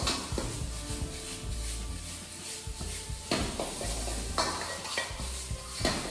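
A wok sizzles loudly over high heat as chicken is tossed and stirred, with metal utensils scraping and clattering against the pan.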